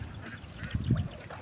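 Ducks quack briefly while being herded across a farm field, a short cluster of calls rising over a steady outdoor background hum.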